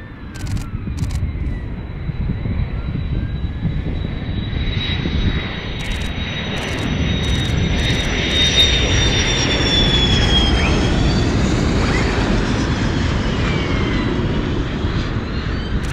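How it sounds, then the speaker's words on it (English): F-15C fighter jets fly in on approach, a loud sustained roar that swells slightly as they pass, with a high whine over a rumbling low end and a few camera shutter clicks. "Second one's going around, so we should get another one on the approach. I think they were F-15Cs."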